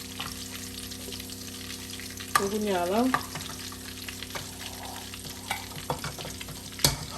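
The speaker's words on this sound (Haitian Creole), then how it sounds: "Hot dog dans fin frit." Hot dogs frying in oil give a dense, steady close-up sizzle throughout, with a brief scraping stir in the middle and a sharp knock near the end; a voice speaks briefly.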